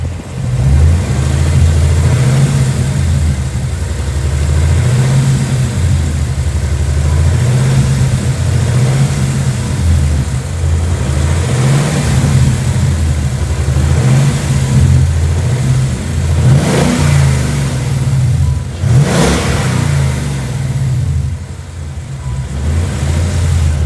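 A Ford Mustang engine with a ticking fault, treated with Ceratec, idles loudly nearby and is revved repeatedly, its low drone rising and falling in regular surges, with a few sharper bursts near the end.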